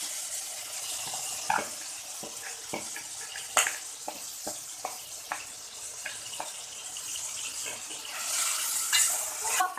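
Gawar green beans go into hot oil with a soft hiss, followed by intermittent spoon taps and scrapes against the pan. The frying rises to a brighter, louder sizzle near the end.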